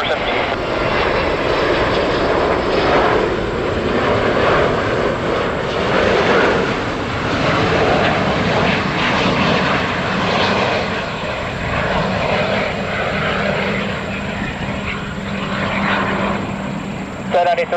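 Aircraft engines roar loud and continuous at JFK Airport, a broad steady rumble that swells and holds throughout, with air traffic control radio talk faintly over it.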